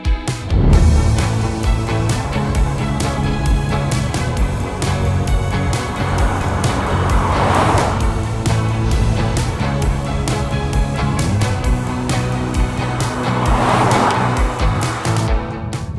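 Steady engine and road noise from a 2026 Audi Q3 on the move, loud and continuous, with a faint background hum and no talking.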